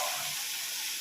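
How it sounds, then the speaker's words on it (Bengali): Two chopped onions fry in hot oil with whole cumin for a Bengali fish dish, giving a loud, steady, close sizzle that continues evenly throughout with no talking. "পেঁয়াজটাকে লাল করে ভেজে নেব।"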